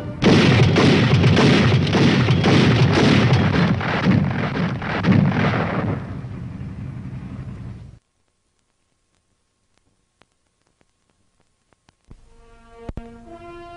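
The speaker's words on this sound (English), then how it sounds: "When it is used as a fully automatic weapon, it fires 240 rounds a minute." A tank-mounted automatic weapon firing in rapid rhythmic bursts, loud and booming for about six seconds, then fading into silence, followed late by a few sharp isolated reports.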